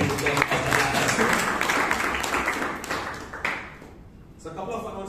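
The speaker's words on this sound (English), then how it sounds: "So a round of applause to Toastmaster." A round of applause fills a Toastmasters meeting in Bangalore, steady and dense for about three seconds before thinning out, with voices mixed into the sound.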